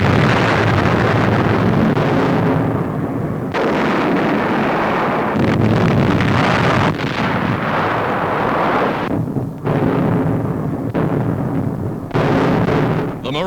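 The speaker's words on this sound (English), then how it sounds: "Dawn, and the Navy's big guns open fire." Heavy naval guns fire in a dawn bombardment of a fortified island shore, captured on old newsreel sound as a continuous loud roar of blasts and rumble with sharp drops and renewed bursts, no voices.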